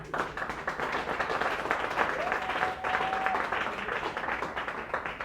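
Mothers in a church congregation clap together in a sustained, even round of applause, a dense crowd patter lasting the whole stretch.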